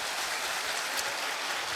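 Applause from a church congregation welcoming a visiting pastor at a Sunday worship service, a dense, steady wash of clapping that fills the brief moment without any speech.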